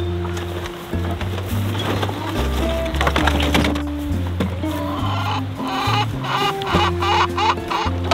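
Chickens cluck and squawk nearby on a farm, with several birds calling in overlapping irregular bursts, close and fairly loud, alongside occasional wooden knocks.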